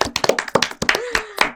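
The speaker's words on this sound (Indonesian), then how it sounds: "Oke, tepuk tangan dulu buat semuanya" A group claps hands in a burst of loose, uneven claps on a game-show stage, close and fairly loud, with a few voices briefly audible underneath.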